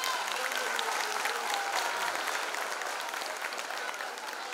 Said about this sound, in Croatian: I za njih veliki aplauz.